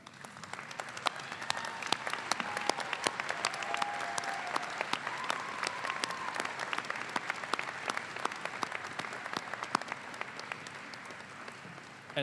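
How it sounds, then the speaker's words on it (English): Graduates at the 117th UMass Dartmouth graduate commencement applaud their supporters, a long, steady roar of a large crowd clapping in a big space, with distinct sharp claps standing out and a few faint voices beneath. "join me in applauding your support system"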